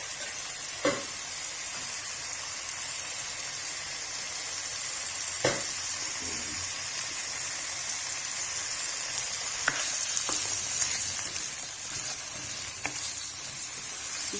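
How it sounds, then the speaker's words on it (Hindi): Potatoes, tomatoes, onions and green chillies fry in a pan with a steady close sizzle and hiss, broken by a few sharp stirring clinks. "अब हम एक साथ डाल देंगे ऐसे आलू, टमाटर, प्याज, सब्ज मिर्ची एक साथ हम डाल देंगे।"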